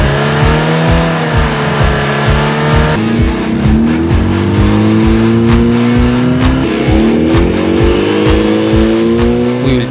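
A Peugeot 106 fitted with a performance exhaust revs hard and repeatedly, rapid throbbing pulses climbing and falling in pitch, loud and close throughout with no talking.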